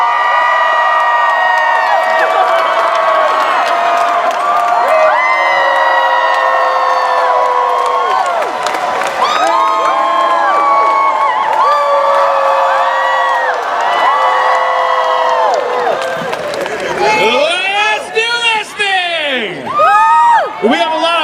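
Large convention audience at L.A. Comic Con cheering, whooping and screaming loudly and continuously for a TV cast, with a host's amplified voice speaking over the crowd near the end.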